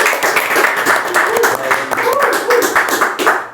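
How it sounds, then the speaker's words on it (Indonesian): Audience applause in a hall during a talk, brisk steady clapping from a crowd lasting a few seconds at close, fairly loud level, with voices faintly mixed in. "Kita tepuk tangan lah"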